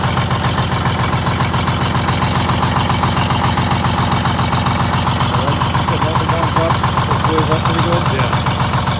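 A Detroit Diesel 6-71 in a GM 4104 bus idles with a steady low rhythmic chugging and an uneven miss in the firing pulses, loud and close, while people talk over it.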